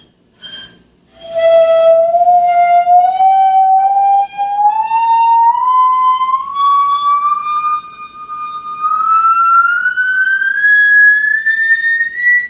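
A small musical saw sings a single wavering, gliding tone that slowly rises in pitch over about eleven seconds, clear and sustained with no voices.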